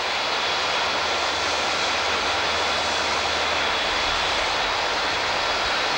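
A Jetstream airplane at San Francisco airport, its engine giving a steady, dense, loud roar that holds unchanged throughout with no talk over it.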